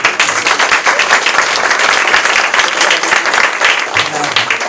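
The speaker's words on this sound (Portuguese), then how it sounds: "Vamos aplaudir mais uma vez." An audience at a Spiritist group gathering in Natal gives a loud, steady round of applause, many hands clapping densely and close for several seconds without pause.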